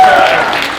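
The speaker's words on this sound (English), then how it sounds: "how about a huge StocktonCon round of applause?" Applause from a convention panel audience at StocktonCon 2019 comes in a brief, loud, dense burst that fades quickly over under a second.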